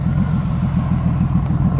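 A 1997 Honda Valkyrie GL1500 motorcycle runs close by with a deep, continuous engine rumble and a quick, even throb, heard alone without voices.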